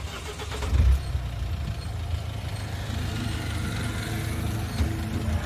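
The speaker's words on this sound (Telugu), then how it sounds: "ఇంజిన్ చూడండి, ఇంజిన్ సౌండ్ కూడా చూడొచ్చు" A 2016 Mahindra XUV500 W6 engine running at a steady idle, with a low continuous rumble and a brief swell near the start.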